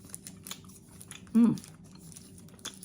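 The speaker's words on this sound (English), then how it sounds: "I shouldn't chew this because my dentist will be mad at me" Someone chews a chewy peach fruit candy: one short, loud, wet bite and squish close to the mouth, with faint clicks and small mouth noises around it.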